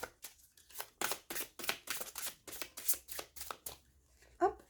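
Oracle cards being shuffled by hand, a quick irregular run of soft flicking riffles and slaps, close and fairly quiet, with no one talking.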